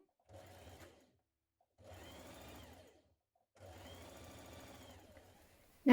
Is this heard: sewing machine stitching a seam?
yes